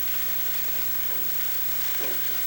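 Onions sizzle and caramelize without oil in a hot Turbo Cooker pan, a steady broadband hiss and crackle that stays loud and even throughout, with no talk over it.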